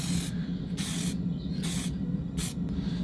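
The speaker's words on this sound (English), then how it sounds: "Just matte black spray paint." Matte black spray paint hisses from an aerosol can in three short bursts, each a loud broadband spray separated by pauses, over a steady low hum in a workshop shed.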